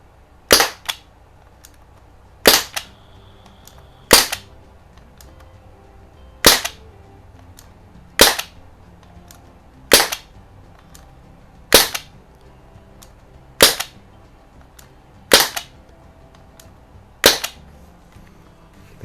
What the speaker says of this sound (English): let's go ahead and shoot a couple and see what we can do.